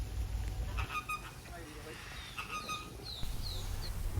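Birds at Port Oasis Eco Park in Cartagena, Colombia honk in short goose-like calls, a few close and loud, with people talking in the background.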